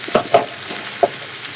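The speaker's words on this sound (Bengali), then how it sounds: "এখন এই যে জালি কুমড়াগুলো দিয়ে দিব।" Ash gourd fries with shrimp in a pan, giving a steady sizzle. A few sharp clinks of stirring stand out briefly above it, and nobody speaks.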